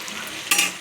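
Green chillies and tomato frying in hot oil, a brief close sizzle with a sharp scrape or stir partway through.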